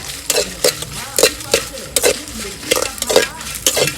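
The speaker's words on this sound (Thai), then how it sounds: "คั่วก่อน คั่วพริกคั่วหมู" Chili and pork being stir-roasted in oil in a pan, with repeated rhythmic scraping and clanks of a spatula against the metal over a steady sizzle, close and fairly loud.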